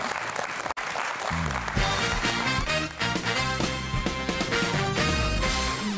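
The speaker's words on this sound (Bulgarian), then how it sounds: "Аплодисменти за Данчо" Studio audience on a Bulgarian TV quiz show applauding a departing contestant, with continuous loud clapping running throughout beneath bright theme music.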